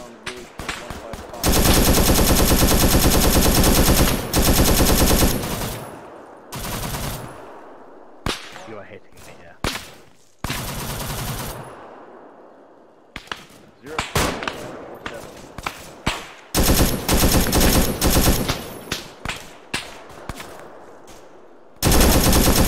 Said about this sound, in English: Machine gun reload.